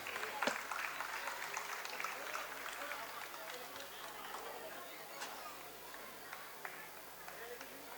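An audience applauds at a prize distribution, a sustained spread of clapping heard from a distance with voices and chatter running underneath.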